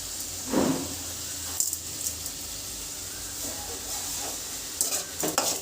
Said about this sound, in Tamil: ஸோ ரெண்டுத்தையும் சேர்த்து நல்லா கிளறி விட்டுட்டு கொஞ்சமாக கல்லுப்பு போட்டுக்கலாம்.